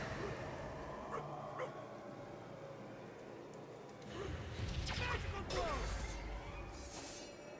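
A dog in a crime-scene investigation video game yips and whimpers over a low rumbling ambience, with the calls growing louder and more agitated in the second half and faint game sounds around them.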